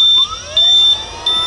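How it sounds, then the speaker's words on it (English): Three short electronic power-on beeps from an Optrel e3000x powered air-purifying respirator, high and clear, evenly spaced with pauses between, over a faint hum. "you get 3 beeps and now it's on"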